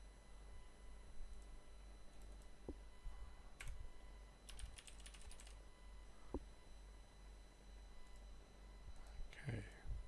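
Light clicks of typing on a computer keyboard during a live coding session, scattered keystrokes in short bursts under a steady background hum, fairly faint and close.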